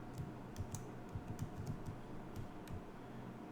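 Steady, moderately quiet keystrokes on a computer keyboard as a password is entered, a run of soft taps with brief irregular gaps over low background hum.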